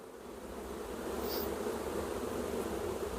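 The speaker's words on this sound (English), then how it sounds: "the bees are actually making their way into the nuke" A swarm of honey bees buzzes close and loud as the bees are tapped into a nuc box, a dense steady drone that swells slightly partway through.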